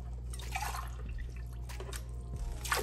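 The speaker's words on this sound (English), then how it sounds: "I'm gonna fill it up with this here some more until it's covered" Water is poured from cans into a deep pot for a beef pot roast, giving a soft, continuous splashing and trickling with a few separate pours, fairly faint over a low background hum.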